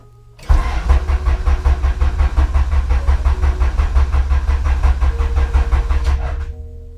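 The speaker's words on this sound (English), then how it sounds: "And now I'm just going to crank a little bit." A Honda B-series engine cranks over on the starter in a rapid, even rhythm for about six seconds, loud and close, then stops without firing.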